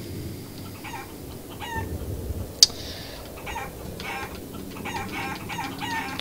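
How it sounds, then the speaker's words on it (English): In the Guacamelee video game, the player's chicken form makes a rapid series of short clucks over steady game background noise, with one sharp click partway through. "It lets you fly indefinitely as the chicken. But the cost is that it makes some really annoying sounds."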